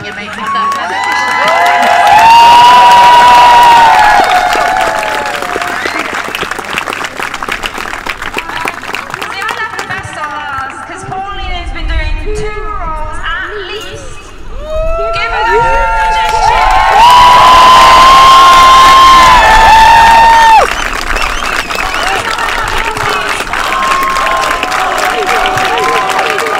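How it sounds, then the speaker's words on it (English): Big crowd roaring with applause, cheers, whoops and high shouts in two loud swells, with a quieter, chatty lull between them. "And then like a giant applause effects,"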